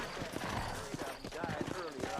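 Horse hooves clip-clop in a Red Dead Redemption ride through New Ulster, a steady rhythmic trot under game music and a voice talking over it.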